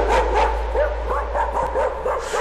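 Loud, close yelping barks and whimpers from a dog in the horror game Layers of Fear, coming in quick uneven bursts over a steady low hum.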